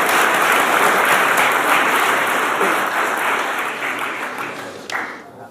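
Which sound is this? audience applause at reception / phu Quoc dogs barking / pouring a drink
audience applause at reception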